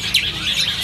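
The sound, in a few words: birds chirping at a bird shop, jalak starlings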